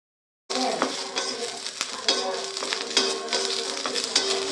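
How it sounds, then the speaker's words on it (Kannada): Six green chillies and two small whole tomatoes fry in a little oil, giving a steady close sizzle with scattered stirring scrapes and clinks throughout, no voices. "ಸ್ವಲ್ಪನೇ ಎಣ್ಣೆ ಹಾಕ್ಕೊಳ್ತಾ ಇದನ್ನು ಚೆನ್ನಾಗಿ ಫ್ರೈ ಮಾಡ್ಕೋಬೇಕು."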